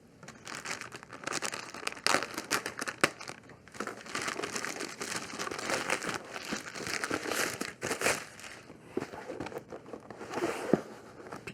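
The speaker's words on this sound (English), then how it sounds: "Let's open the box." Cardboard shipping box from PCBWay being opened, with continuous crinkling and crumpling of packaging material, rustling and tearing close by for several seconds, with sharp louder crackles throughout.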